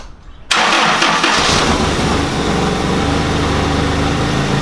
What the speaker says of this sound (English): This is where we now start the car to make sure that the fan belt's on nice and straight.